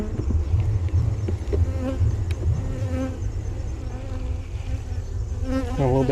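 Honey bees buzzing steadily around an open hive during an inspection, a dense, continuous droning hum with individual bees passing close, some louder fly-by whines.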